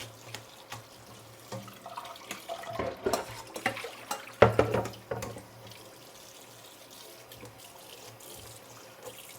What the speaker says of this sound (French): je les trempe dans un filet d'eau froide.